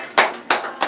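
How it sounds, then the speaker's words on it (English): Three sharp claps in quick succession from a church congregation, crisp and close with short gaps between them. "Clap for the Lord Jesus Christ"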